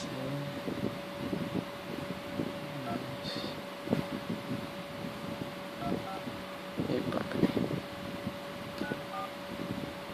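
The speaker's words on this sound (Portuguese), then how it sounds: "Pera aí que eu vou ligar pra ela aqui." Phone dialing a call, a quiet steady ringback tone running under faint street noise with passing engine rumble, with a short beeping burst partway through.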